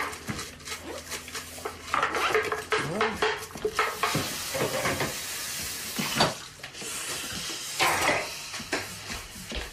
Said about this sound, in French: Je lave le mélangeur.